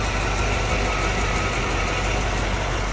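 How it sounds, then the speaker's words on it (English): A 1996 Corvette with the LT4 V8 and six-speed manual idles steadily, a smooth, even engine rumble with constant low vibration and no voices over it. "She's been idling here good."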